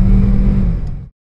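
A 2019 Volkswagen Polo GT TSI hatchback with a 1.2-litre turbocharged petrol engine gives a single loud, close rev that holds steady for about a second and then cuts off abruptly into silence.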